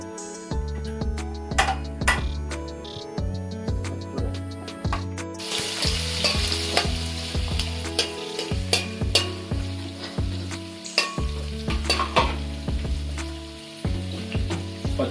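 Cumin seeds, nutmeg and mace fry in hot oil for a Telangana-style mutton curry, crackling and sizzling steadily while a utensil stirs and scrapes the pan in repeated strokes.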